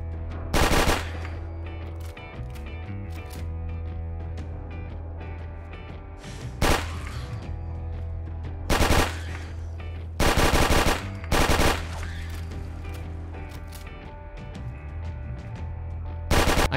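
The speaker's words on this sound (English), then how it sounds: "Now I'm going to be firing the M50 in third person and first person view. It is in automatic mode" M50 automatic gun firing in Fallout 4, heard as short loud bursts of rapid shots at irregular intervals over a steady low game hum, with no talk.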